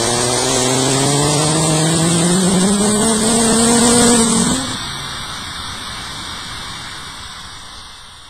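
Air rushes out of a tire through a Staun tire deflator as a loud, close hiss with a rising whistling whine, which cuts off abruptly midway and leaves a quieter fading rush.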